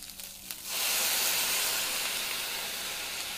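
Water poured into a hot pan of sautéing red onions and garlic bursts into a loud, steady steam hiss that sustains for several seconds after a few quieter sizzles.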